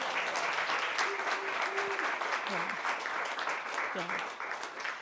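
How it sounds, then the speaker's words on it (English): Sustained applause from an audience honoring caregivers at a closing session, dense and steady throughout, with a voice speaking briefly over it. "I would love a round of applause for all the caregivers."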